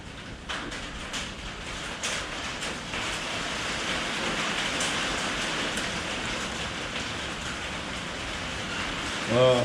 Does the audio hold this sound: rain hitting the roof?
yes